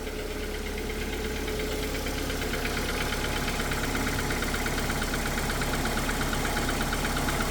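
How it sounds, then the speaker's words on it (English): A Neon's engine idles steadily up close with a fast, light ticking rattle from its lifters running through it, constant and even throughout. "I think it's something rattling. I think it's lifters."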